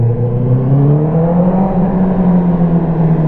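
A close Honda CBR650R motorcycle engine hums and revs steadily, its tone gradually climbing, loud and continuous with no talking.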